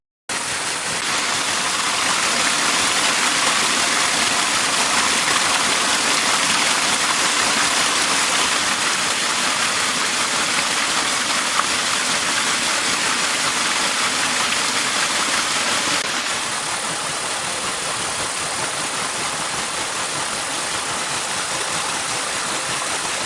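A steady stream of water pouring from a pipe onto an iron water wheel makes a loud, continuous rushing roar, close and unbroken, easing slightly in level partway through.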